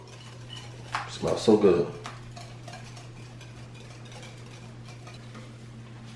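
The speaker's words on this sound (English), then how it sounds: "I'm going to whisk it in really well like this" A whisk rattles and clinks briskly against a bowl for about a second while dressing is worked into potato salad, then it fades to quiet room noise as someone speaks briefly.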